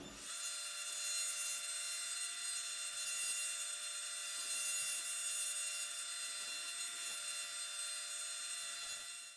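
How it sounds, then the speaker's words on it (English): A power sander levels an abalone shell rosette inlaid in an acoustic guitar top, giving a steady, even whir with faint rubbing texture that runs continuously for several seconds and then cuts off, with no talking. "I think it's ready to go through a sander and we're going to level it out."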